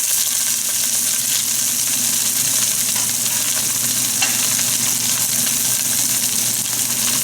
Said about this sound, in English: At this point, I'll put the onions.